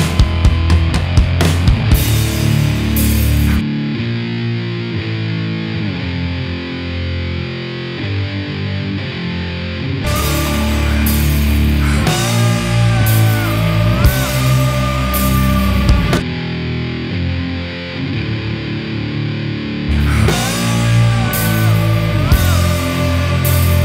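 Electric guitar run through a GimpFX Thug fuzz pedal, a clone of the DAM Meathead, in its bright version, playing loud, thick, saturated fuzz riffs with sustained chords and brief bright lead phrases throughout.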